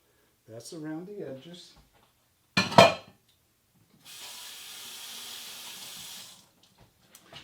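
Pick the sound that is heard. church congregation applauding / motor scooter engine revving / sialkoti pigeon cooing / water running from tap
water running from tap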